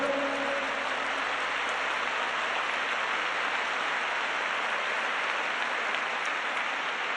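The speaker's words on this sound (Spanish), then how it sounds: "ese aplauso fuerte para el Señor" Steady, loud applause from a large church congregation, a dense wash of clapping that holds evenly throughout without voices standing out.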